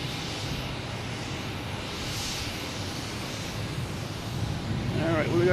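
A JetBlue airliner takes off from Boston Logan, its engine rumble steady in the distance and swelling toward the end, with wind noise around it.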